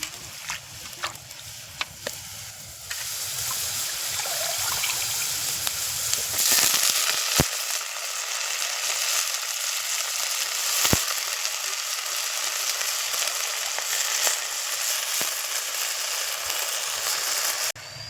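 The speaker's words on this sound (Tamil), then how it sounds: "இப்போ கீரை சேர்த்துடலாம்" Ponnanganni greens drop into a hot pan with soaked chana dal for a poriyal, setting off a steady, bright sizzle and crackle that runs throughout, with a few sharp clicks and pops.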